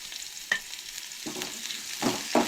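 Spices and ingredients for a Goan red cowpea coconut curry are sautéed in a pan: a soft continuous sizzle with a few distinct stirring scrapes and taps.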